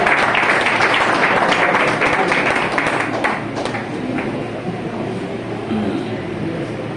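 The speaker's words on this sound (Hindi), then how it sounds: "तालियां बजाएं साहब इनके लिए" Audience applause for achievers at a recognition ceremony: dense, sustained clapping from a large crowd, loud throughout and easing slightly toward the end.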